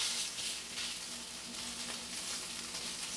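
Potato slices fry in a pan on the stovetop, giving a continuous close, even sizzle and crackle with no voices.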